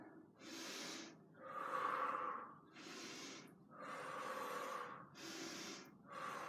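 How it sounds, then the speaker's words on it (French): Heavy breathing during a HIIT exercise comes in six close, audible breaths, alternating strong inhales and exhales in a steady rhythm with brief pauses between them. "Inspire en montant et on expire en redescendant."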